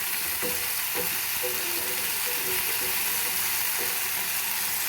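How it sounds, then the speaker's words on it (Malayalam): Chicken for homemade shawarma frying in a pan, giving a loud, steady sizzle broken by a few clicks as the pieces are turned, with no talking. "ചിക്കൻ ഓൾമോസ്റ്റ് നല്ല രീതിയിൽ ഫ്രൈ ആയിട്ട് വന്നിട്ടുണ്ട്."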